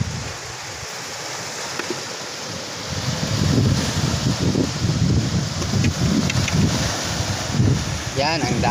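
Strong sea waves rolling in at the shore, a rumbling low wash that grows louder partway through, mixed with wind buffeting the microphone and a few faint distant voices.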